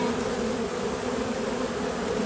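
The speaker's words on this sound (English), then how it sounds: "they're sending out a pheromone to call the other bees in, saying she's here, this is home" Honeybees buzz steadily at the entrance of a backyard hive in spring, a dense, continuous drone from many insects close by with no break and no voices.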